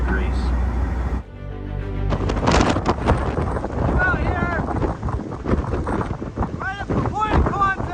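Hurricane Nicole's wind roars and buffets the microphone on the coast where ocean meets land, loud and continuous, with someone talking over it and scattered bird cries.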